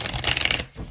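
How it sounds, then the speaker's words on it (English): Tarot cards being shuffled up close, a dense run of papery riffling and flicking for most of the moment before it fades into quiet. "So let's shuffle 2 more times."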